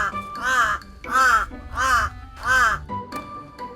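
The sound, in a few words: pet crow cawing loudly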